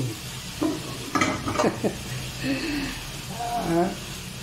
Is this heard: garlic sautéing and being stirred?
yes